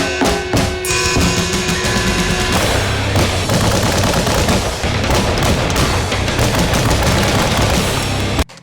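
Rapid bursts of gunfire crack out at a public shooting range, dense overlapping shots and automatic volleys loud and close, continuing almost without pause for the whole stretch.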